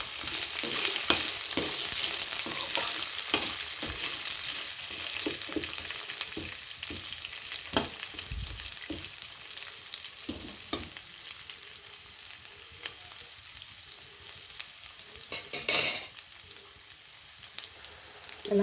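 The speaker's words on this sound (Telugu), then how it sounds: "ఇందాక మనం చెప్పుకున్న పోపులన్నీ కాగిన నూనెలో వేసి వేయించుకోవాలి" Tempering spices for lemon pulihora fry in hot oil with a steady bright crackling sizzle, scattered pops and occasional stirring scrapes throughout, no voices.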